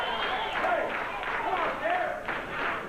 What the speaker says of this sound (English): Crowd getting behind the King and Dutch Mantell.